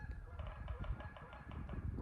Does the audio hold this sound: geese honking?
yes